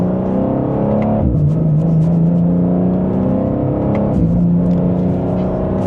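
A 2026 BMW M2 in Sport Plus pulls hard in second gear, its engine note climbing steadily, dipping briefly at a quick upshift and then rising again, loud and close throughout.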